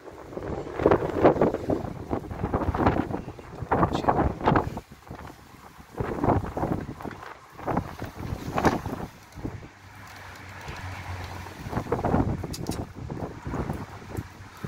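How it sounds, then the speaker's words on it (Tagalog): Strong, cold gusting wind on a wet, windy day buffets the microphone in loud rumbling waves, rising and falling, with a brief voice speaking once amid the roar. "Ang lakas ng hangin at ang lamig ngayon dito"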